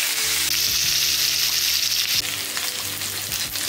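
Onion and bell pepper fry in a pan, a loud continuous sizzle up close with a brief bright hiss burst and a few stirring scrapes.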